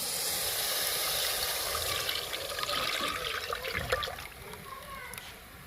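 Water pours steadily into a pot, a continuous splashing trickle that is close and moderately loud.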